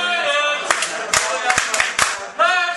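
A crowd at a live home-team sports broadcast from a downtown bar clapping in scattered sharp bursts, with a voice talking over the applause.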